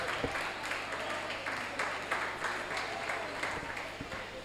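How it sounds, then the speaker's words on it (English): An audience applauds after an academic presentation, with a steady wash of many hands clapping, moderately distant and even in level from start to finish. "Another round of applause, please."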